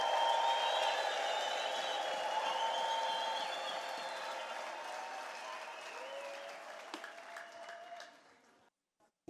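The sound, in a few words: church congregation applause and ululation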